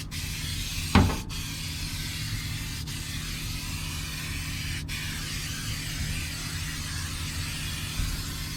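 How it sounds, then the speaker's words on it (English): 3M spray adhesive hisses from an aerosol can as carpet is glued into an OBS Chevrolet Silverado, a steady spray held for several seconds with a few faint clicks and handling noises. "And this is, you know, just 3M spray glue."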